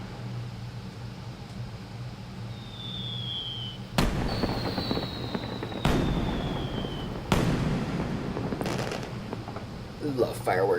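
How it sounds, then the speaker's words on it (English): Fireworks in the video game Final Fantasy 12, whistles rising before several sharp cracking bursts spaced a few seconds apart, moderately loud over a steady low hum, with a voice talking at times. "Love fireworks."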